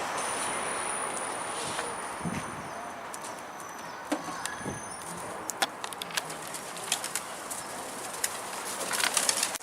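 Mardin pigeons coo softly amid outdoor ambience, with scattered sharp wing flaps growing busier toward the end and faint voices in the background.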